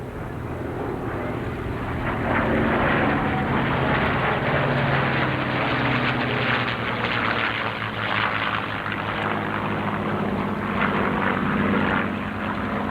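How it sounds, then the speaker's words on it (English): A P-51 Mustang's Rolls-Royce Merlin piston engine drones loudly and steadily, a throaty roar holding close for several seconds as the aircraft passes at an air show. "One of the great airplanes of that period, from 1939 through 1945, with the Rolls-Royce Merlin engine."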